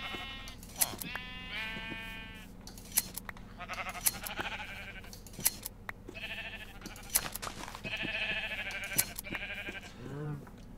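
Minecraft sheep bleat repeatedly, several separate cartoonish baas spaced irregularly over a quiet background, some overlapping, with small clicks between calls.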